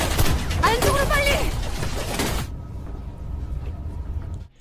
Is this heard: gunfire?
yes